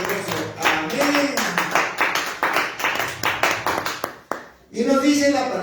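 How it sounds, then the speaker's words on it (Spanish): A church congregation claps in a quick, steady rhythm, sharp, close hand claps repeating in a regular beat while a voice speaks over them, then the clapping stops briefly before talk resumes. "Aplauso al Señor, Dios Todopoderoso."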